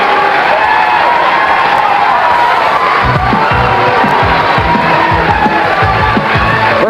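Capacity crowd at a bowling event at Gable House in Torrance erupts in loud, sustained cheering and whooping, with shouts and scattered clapping rising over a dense roar of voices.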